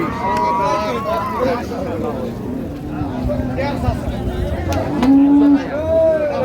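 Dairy cows moo at a cattle market in Raniganj, Dinajpur, with one clear, loud, drawn-out low call near the end and fainter lowing earlier, under steady crowd babble and nearby talk.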